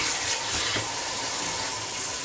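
Cold tap water runs steadily into a sieve of blanched tomatoes in a kitchen sink, a close, continuous splashing rush with no voices.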